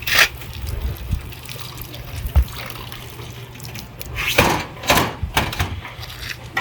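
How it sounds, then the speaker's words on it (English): Water trickles and splashes through the pads of a swamp cooler, with soft irregular dribbles and occasional louder bursts over a low steady hum, close by. "see the water going through all the pads"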